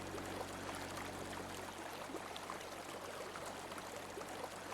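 Steady rushing water flowing through a drain in the video game Drain Sim, a continuous even stream with no pauses, fairly faint and alone.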